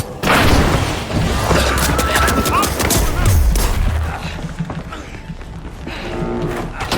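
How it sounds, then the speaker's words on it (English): Pyro grenade going off in a video game, a loud booming burst of fire and explosions that fills the clip, with heavy rumbling in the middle and a dense, sustained roar that slowly eases toward the end. "Throwing pyro grenade."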